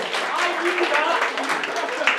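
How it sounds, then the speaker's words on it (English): Audience applause at a comedy club show, a steady wash of clapping from a crowd, moderately loud and continuous, with voices mixed in underneath. "Round of applause for everyone, ladies and gentlemen."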